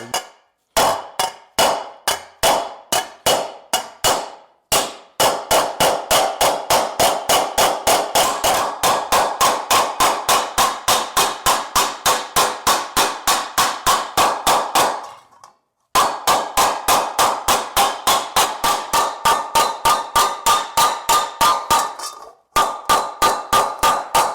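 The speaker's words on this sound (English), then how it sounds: "I've got a hammer with a decent radius on the face. And I'm going to start knocking that back." Hammer with a radiused face knocking back the edge of a metal race fuel cap on a post dolly: long runs of steady, ringing metallic blows at a quick even rhythm, close and loud, with a few brief pauses.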